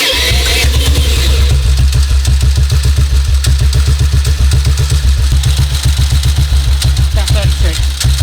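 A 1952 BSA M21 motorcycle single-cylinder engine fires up and settles into a steady, loud thumping idle, its regular beats running close and continuous throughout.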